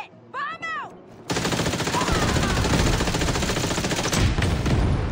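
In The Division 2, gangs fight with guns, and after a brief voice a burst of dense, sustained automatic fire rattles loud and continuous to the end.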